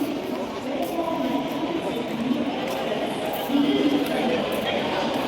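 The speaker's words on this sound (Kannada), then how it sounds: "ಇವತ್ತು ಫುಲ್ ರೈಲ್ವೆ ಸ್ಟೇಷನ್ ರೌಂಡ್ ಹೊಡಿಯೋನು" A continuous rumbling roar of trains at Belagavi railway station, a broad, steady rolling noise that carries evenly throughout and swells slightly toward the end, with voices faintly present beneath.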